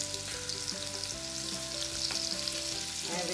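Chopped ginger and green chili sauté in a hot pan for veg hakka noodles. A steady, close sizzle and frying crackle sits over soft tonal background music, with no voice.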